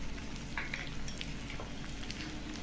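Soaked rice with turmeric fries in ghee, giving a soft, steady low sizzle with scattered light scrapes and stirring clinks close at hand, with no talking.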